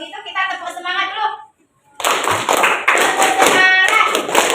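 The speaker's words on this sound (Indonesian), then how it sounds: "Kalau begitu kita tepuk semangat dulu." Schoolchildren in an Indonesian classroom perform a rhythmic clapping cheer together, loud and close; sung or chanted voices come first, then a short pause before dense, patterned claps with voices mixed in.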